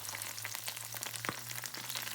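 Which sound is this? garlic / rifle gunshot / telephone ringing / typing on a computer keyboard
garlic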